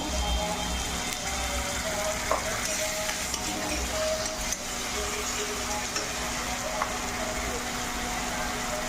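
Ginger, garlic and green chilli paste fries with browned onions in a pan, a continuous close sizzle with stirring scrapes and small clinks running throughout, a voice faintly present under the cooking.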